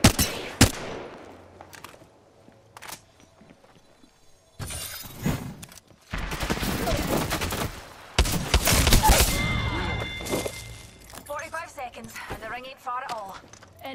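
Bursts of automatic gunfire and sharp impacts from an Apex Legends match, loud and close, arriving in several rapid clusters with brief gaps between them, over game effects and team voice callouts.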